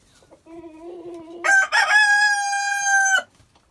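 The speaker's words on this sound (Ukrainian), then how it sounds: "Голосніший легорн. Чуєте, який в нього дзвінкий голос." A rooster crows loudly nearby, a ringing cock-a-doodle-doo that starts lower and rises into a long sustained bright final note.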